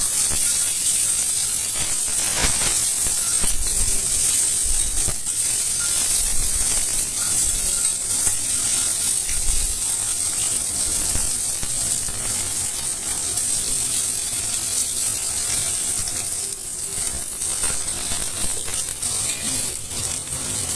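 An egg stirred and fried in oil in a pan, a continuous close sizzle broken by scraping, clicking strokes of a utensil against the pan, with no talking.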